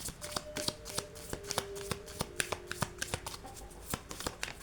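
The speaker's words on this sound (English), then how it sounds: "Just messy shuffling." Playing cards are shuffled close up, a rapid string of riffling snaps and flicks in uneven bursts, with a faint tone lingering behind.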